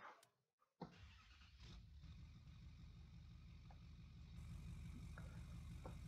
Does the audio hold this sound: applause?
no